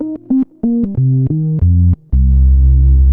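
Roland Alpha Juno synthesizer playing a sequence of short sustained notes that change pitch, ending on a long held organ-like tone, loud and alone with no talking.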